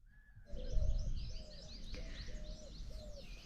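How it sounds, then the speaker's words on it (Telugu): Birds chirp and call at the Gandikota viewpoint outdoors, with repeated bright tweets and a lower rhythmic call over soft wind, moderately distant. "పక్షులు కిలకిలలో"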